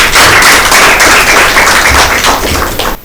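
A school audience claps loudly to welcome a quiz team at a Christmas Bible quiz, a close, dense burst of clapping that carries on for about three seconds and then stops abruptly.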